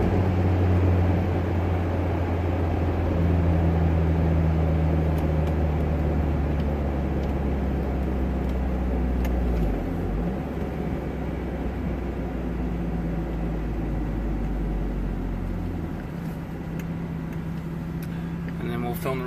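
A Mazda Miata NB roadster with a Sport 3 muffler drones from inside the cabin, a low, steady booming hum that shifts in pitch as the car slows, with road noise and a voice underneath.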